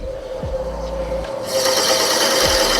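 A lathe's whirring hum with a steady tone, running a little fast, joined halfway through by a harsher, louder grinding rasp as a drill bit bites into a wooden pen blank.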